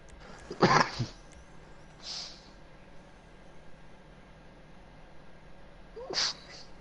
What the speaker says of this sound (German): Ich habe gehustet